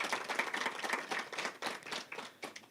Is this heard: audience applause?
yes